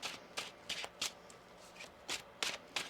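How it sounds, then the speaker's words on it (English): Tarot cards being shuffled by hand, a series of quick papery riffles and slaps in short bursts, close and soft in a quiet room. "Let's get one more shuffle here."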